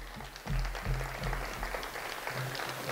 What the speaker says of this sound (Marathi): सर्व कार्यक्रमासाठी सर्वांच्या पुन्हा एकदा जोरदार टाळ्या.